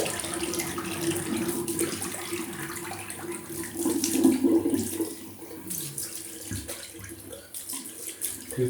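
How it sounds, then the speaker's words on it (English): Cool tap water runs steadily into a bathroom sink for a rinse after a wet shave, a continuous splashing flow with slight swells in volume and no speech. "I'm going to use cool water to have a bit of a rinse."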